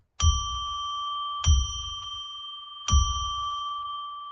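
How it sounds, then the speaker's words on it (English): A bell is struck three times at even intervals about a second and a half apart, each bright ringing tone sustaining clearly until the next strike, with no voices over it. "I'm going to ring a bell 3 times to declare and establish sacred space."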